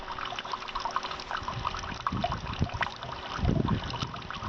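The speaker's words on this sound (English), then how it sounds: "Now here it's dripping at about the proper rate of flow that I want to see." Water drips and trickles steadily out of a bio-sand filter into a container at a moderate flow, a continuous wet patter with some louder splashy moments, close by and without talk.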